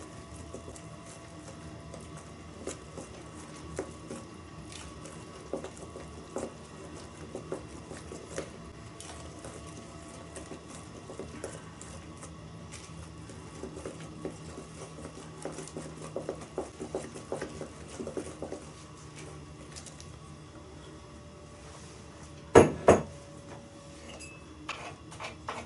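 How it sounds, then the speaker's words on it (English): Currant cake batter being whisked in a mixing bowl in a home kitchen: soft, steady scraping and light tapping of the whisk against the bowl, fairly faint, with a couple of sharper knocks near the end. "we once again whisk it all in"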